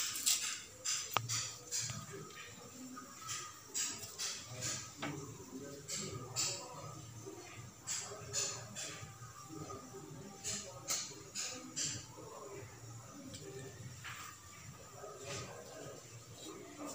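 Chana dal and urad dal fry in hot oil with a steady crackling sizzle, dense with small irregular pops and bursts throughout, fairly close and moderately loud, with no talk over it.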